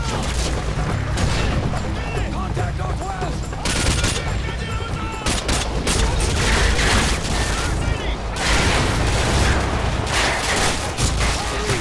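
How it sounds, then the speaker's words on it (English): Gunfire and explosions from the video game Modern Warfare 2 fill the mix with dense, loud bursts of shots and booms throughout, with a player's voice talking over the combat. "I've just thrown a grenade behind me like an idiot"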